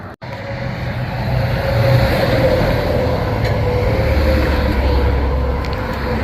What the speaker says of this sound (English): You can hear the cars rushing by.